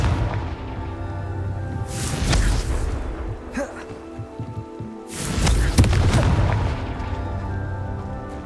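Two heavy, booming blasts from the Confringo fire spell in Hogwarts Legacy, each a broad rumbling burst that swells and fades, separated by a short quieter gap in the game's soundscape.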